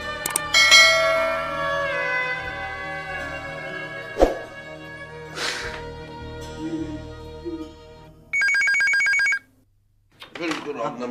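An old telephone rings in a PTV Urdu drama, a loud steady electric bell burst standing out after tonal music and a few thuds, with voices briefly around it.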